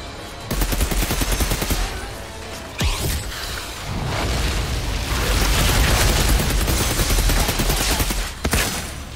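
Rapid bursts of gunfire crackle in quick succession with booming impacts, loud and continuous, like automatic weapons firing in the video game Outriders.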